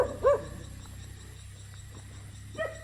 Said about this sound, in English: I'm not sure what the dog's so unhappy about.